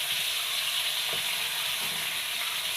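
Mackerel (ayala) fillets fry in hot oil in a pan with a steady, close, even sizzle and crackle. A couple of soft stirring or turning sounds come through, and nobody speaks.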